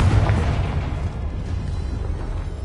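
A Confringo fire spell goes off in Hogwarts Legacy, a loud close booming burst that rumbles and then fades into a lingering low roar for a couple of seconds.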